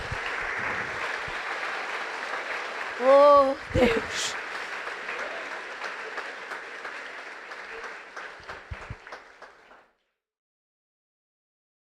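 Church congregation applauding together in worship, a steady spread of clapping that swells briefly and fades out after about ten seconds, with a short spoken exclamation partway through.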